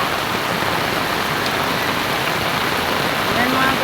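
Heavy rain pouring steadily outdoors, a dense, loud, unbroken hiss of water with no gaps across the whole stretch, alone without clear talking.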